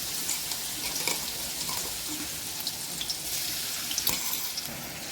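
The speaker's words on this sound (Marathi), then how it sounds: "याला छान असं तेलामध्ये परतून घ्यायचं आहे" Ground chili-garlic paste sautés in hot oil for a red pumpkin bhaji, a steady bright sizzle broken by soft scrapes and taps of stirring.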